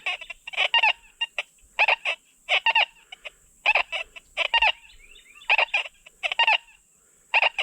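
Repeated short electronic warbling beeps in quick bursts, a metal detector's target tone sounding over and over against a faint steady high hiss.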